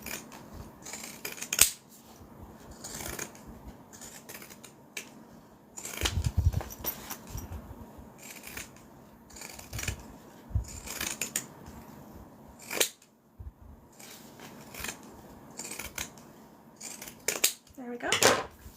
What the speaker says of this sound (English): let me grab my pinking shears